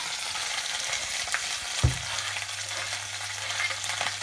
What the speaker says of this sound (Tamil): துருவி வச்ச மாங்காவையும் போட்டு நல்லா வதக்கலாம்.